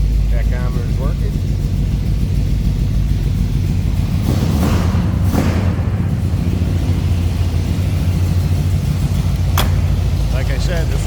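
A 1969 Chevrolet El Camino engine runs with a steady low rumble throughout, rising briefly in a couple of bursts near the middle, with a faint voice speaking over it.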